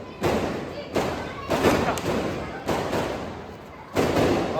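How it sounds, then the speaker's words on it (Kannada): Big Deepavali firecrackers burst outdoors in a series of about five loud, booming thuds spaced roughly a second apart, each with a short rumbling tail. "ದೊಡ್ಡ ಪಟಾಕಿ ಹಚ್ಚಕ್ಕೆ ಹೋಗೋಣ."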